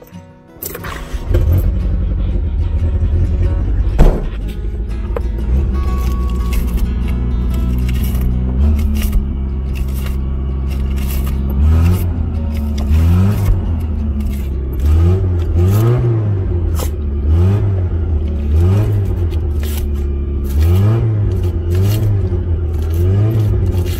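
Mitsubishi car with a 4G54 engine on a short test drive, with an auto choke high idle problem; steady engine drone and cabin rumble with repeated rising and falling rev swells, close and loud, no talking.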